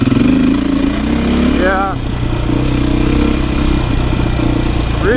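Beta 500 RS dirt bike engine running steadily up close on a trail ride, a rough, thrumming mid-pitched drone with a short rev, and a rider's voice briefly over it.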